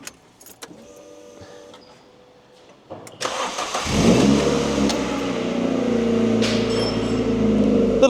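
A Ford Fiesta with a swapped-in Ford Puma engine cranks, catches and starts, then settles into a loud, steady rumbling idle close by.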